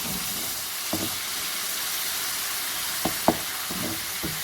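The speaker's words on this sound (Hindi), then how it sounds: "और इसको बस इसी तरह से भूनना है, इस मसाले को" Spiced masala for chicken Afghani malai karahi fries in a pot with a steady low sizzle and hiss, broken by a few sharp stirring knocks and scrapes, close and moderately quiet.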